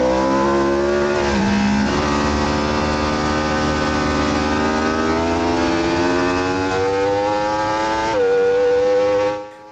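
Racing motorcycle at the Brno circuit, a loud close engine wail rising steadily in pitch through several gear changes as it accelerates out of a corner, then cutting off abruptly at the end.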